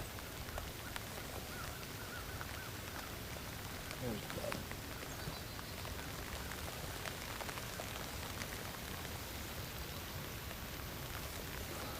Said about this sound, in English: Getting a pretty good rain coming down now.